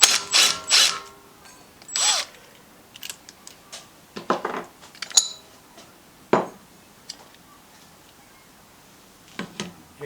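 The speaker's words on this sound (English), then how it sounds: "now we're going to take off the rear cover cup and the fan. So, 3/4 inch socket" A 3/4 inch socket wrench works on the rear cover of a Coleman BT200X mini bike engine, sharp metallic ratcheting clicks and clanks arriving in scattered close bursts with quiet gaps between.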